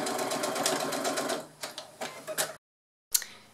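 A sewing machine runs steadily while stitching fabric for a small pouch, then gives a few short bursts for a backstitch at the end of the seam. The sound is close, ends in a brief pause and one last short whir.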